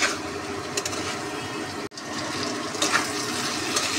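Water poured into a cooking pan to rinse out leftover spice paste, a steady close splashing pour with a brief break midway, no voices.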